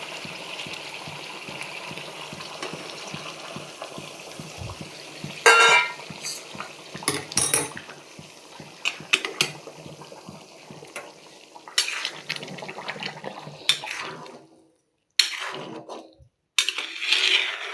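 Hot water is poured into a pot of desi chicken curry, giving a gushing, sizzling splash with intermittent stirring and clinks of utensils against the pot. The sound is close and moderately loud, with brief pauses.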